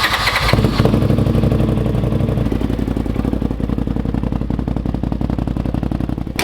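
A Polaris RZR Turbo S UTV engine with a loud aftermarket exhaust starts up and settles into a rough, throbbing idle with a deep, rapid exhaust pulse, close and continuous.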